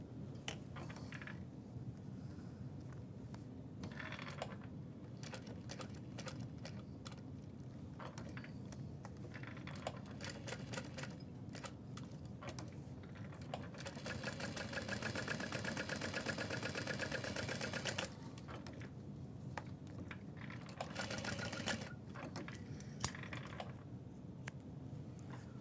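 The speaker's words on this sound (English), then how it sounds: "I'm gonna start top stitching." A sewing machine top stitching a bag runs in a steady mechanical whir for most of the span, with stitching bursts and short pauses and a louder stretch partway through, with no talk over it.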